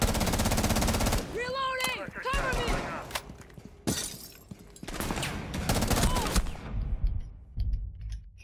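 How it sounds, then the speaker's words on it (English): Rapid bursts of automatic gunfire and sharp shots in the Rainbow Six Siege tactical shooter, loud and close, with shouted voices in between and a clattering crash near the end. "I'm getting shot right now."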